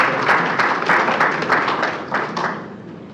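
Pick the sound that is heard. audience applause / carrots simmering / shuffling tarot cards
audience applause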